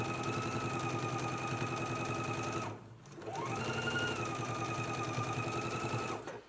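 A sewing machine runs steadily while top stitching a dress yoke, its loud, even mechanical hum broken by one brief stop near the middle before resuming at the same pace until the end.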